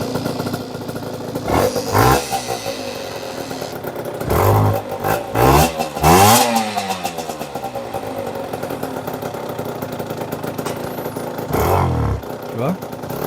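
2008 MBK X-Limit enduro motorcycle under restoration, started with its airbox fitted, giving several sharp revving bursts over a steady mid-pitched engine note, close by, with someone speaking over parts of it.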